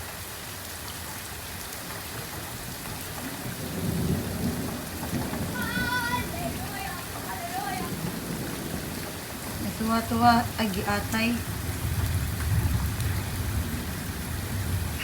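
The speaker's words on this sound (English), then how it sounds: "My kids are playing in the rain, rain." Steady rain pours outdoors with thunder rumbling in the background while children play in it; their voices and shouts come through over the constant downpour.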